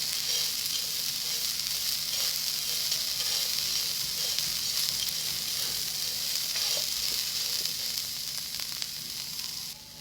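Onion and capsicum for a potato Maggi snack crackle in a hot pan, a steady close sizzle running without a break for the whole stretch, with faint scrapes of mixing now and then.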